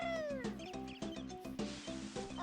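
A voice imitating a cat, meowing frantically in a rapid run of loud, wavering, high-pitched yowls with a steady thumping pulse beneath.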